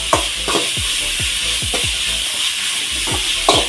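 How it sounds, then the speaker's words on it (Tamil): Pasta ingredients sauté in a hot pan with a steady loud sizzle, while a spoon strikes and scrapes the pan in a regular rhythm of about two strokes per second, up close with no talking. "எல்லாத்தையும் போட்டு நல்லா வதங்கட்டும்"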